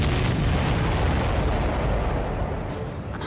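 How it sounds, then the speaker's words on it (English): Missile explosion striking a supply ship in the combat flight game Ace Combat 7, a loud, dense, sustained rumbling blast that fills the sound and slowly fades without clear breaks. "Did you see that explosion?"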